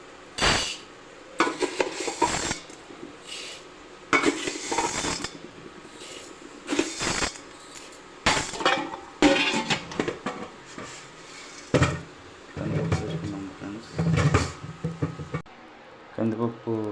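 Toor dal being washed in metal pots in a home kitchen, heard as repeated close clattering and sloshing of pots and utensils in uneven bursts, with speech between some of the bursts.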